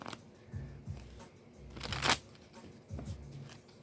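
Tarot cards shuffled by hand in a quiet room, with several soft riffling bursts and one louder sharp riffle in the middle, close up and with no talking.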